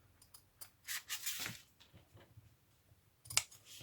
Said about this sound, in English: And over here I'm going to snip this off